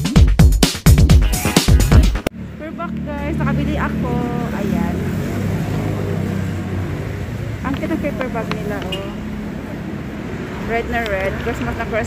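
Traffic passes steadily on a busy road while people walk along it, a continuous near rumble of vehicles holding through the clip, preceded by a short loud burst of close sound at the start.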